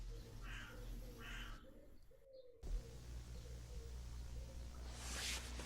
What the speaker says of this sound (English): Now there's a pigeon joining the chorus.